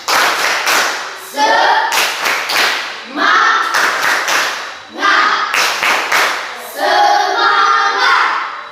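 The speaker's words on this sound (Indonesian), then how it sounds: "Apresiasi kita untuk semangat dulu ya. Tepuk semangat." A classroom group claps in a steady rhythmic pattern, bursts of sharp claps in repeating phrases, with voices chanting along between them, loud and close.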